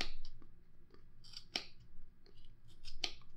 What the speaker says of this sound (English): We're just going to fit our scissors right in that gap there and start cutting.